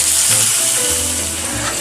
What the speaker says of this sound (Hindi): तो सबसे पहले हम बरबटी को फ्राई कर लेंगे।